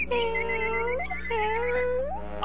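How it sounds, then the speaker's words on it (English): A cartoon kitten gives two drawn-out, wavering meows in a row, close and clear over a low steady hum. "The canary is beginning to sound like a kitten."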